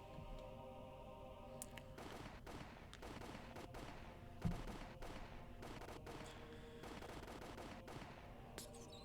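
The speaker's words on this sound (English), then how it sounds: "The sound of the gunshots echoed in the silence." Soldiers' gunfire in the Higurashi visual novel game: a steady stream of faint, distant shots with one slightly louder burst midway, set against a constant low background, with no voices.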